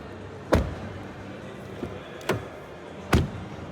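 Three solid thumps of a 2024 Peugeot e-2008 Allure front door shutting, spaced apart, with a fainter knock between them against quiet background.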